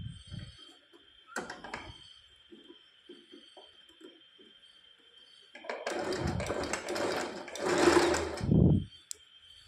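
A sewing machine stitches a three-piece princess-cut blouse piece, first in short isolated taps and brief bursts, then a louder sustained run of rapid stitching near the end, close up with no talk.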